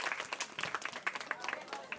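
Crowd applause at a Bangladeshi wedding holud celebration, a dense patter of many hands clapping steadily for two seconds, moderately loud with some chatter mixed in.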